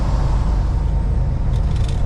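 Loud rushing wind pours in through the open window of a semi truck driving in snow, a dense constant roar over deep engine drone, close and unbroken with no voices.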